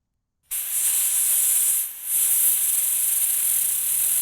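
Compressed air blasts onto a cut section of large steel chain, a loud, steady hiss that starts abruptly, dips briefly near the middle, then continues unbroken.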